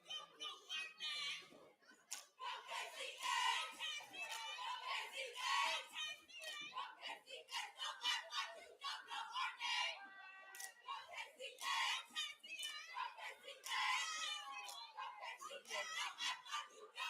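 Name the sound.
Jaguar cheerleaders cheering at football game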